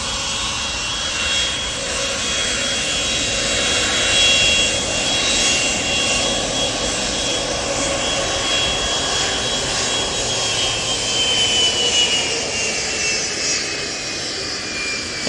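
Aircraft engines roar steadily at Manchester Airport, a continuous loud jet drone with a slowly shifting whine, heard alone without talk.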